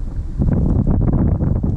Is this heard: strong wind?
yes